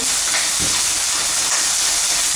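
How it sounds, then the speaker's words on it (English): Loud, continuous sizzling and hissing of steak frying hot in a pan, up close and steady with no voices. "You can hear her sizzling away pretty good."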